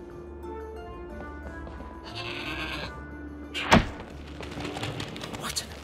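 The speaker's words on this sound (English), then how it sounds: "What an amazing goat!" A goat in the fantasy video game Trine 4 gives a clear nearby bleat, followed by a single heavy thud amid soft ambient game sounds.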